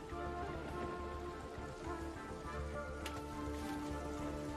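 Steady rain falling in the video game Genshin Impact, a dense, constant hiss of drops that stays even and soft throughout with no voices.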